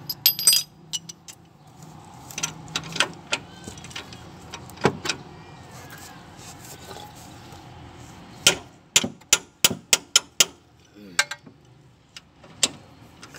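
Sharp metallic taps strike in an uneven series, then a quicker run of about ten hits near the end, close by, with quiet rustling between, as a hammer pounds a shaft while fitting a shaft kit on a 2007 Mitsubishi L300.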